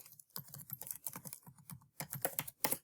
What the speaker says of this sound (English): I'm going to type in the web address